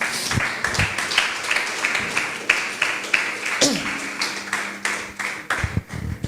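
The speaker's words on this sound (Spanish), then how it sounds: "Dele palmas fuertes al Señor." Church congregation clapping together in a steady, loud, rhythmic beat that runs throughout, with a voice briefly heard over it.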